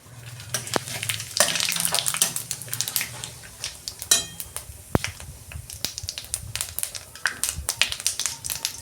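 Bay leaves and whole cumin seeds fry in hot oil for a chicken curry, a close crackling sizzle broken by irregular spatters, pops and sharp utensil clinks against the pan, no voices.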